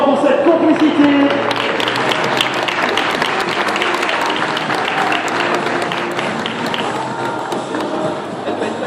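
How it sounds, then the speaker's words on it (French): Applause from a crowd at an indoor horse show, dense sustained clapping that is loud at first and eases slightly, with a voice speaking briefly near the start. "Applaudissements pour cette complicité."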